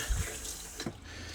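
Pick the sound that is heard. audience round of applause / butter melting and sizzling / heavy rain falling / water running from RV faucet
water running from RV faucet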